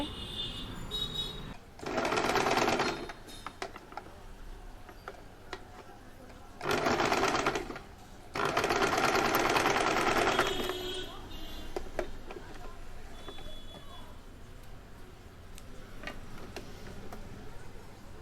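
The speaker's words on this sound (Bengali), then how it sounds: "এটাকে আমি ঘুরিয়ে এইভাবে সেলাই করে নেব" A sewing machine stitches a small doll frock in three loud, close bursts of rapid whirring and clatter, with quiet handling noise between the runs.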